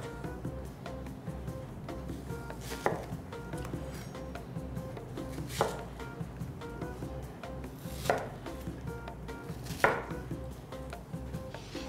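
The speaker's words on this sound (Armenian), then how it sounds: "Կտրում ենք 3 սոխ, ամեն սոխը բաժանում ենք 4 մասի։" A knife cuts onions into quarters on a board, with a few sharp, separate chops spaced several seconds apart over a quiet background.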